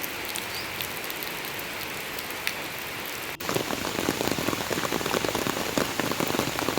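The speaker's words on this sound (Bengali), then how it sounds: "এখন অল্প অল্প বৃষ্টি পড়ছেই।" Light rain patters steadily on surfaces around a rural garden farm, a soft continuous hiss that grows denser and louder partway through. No voices are heard.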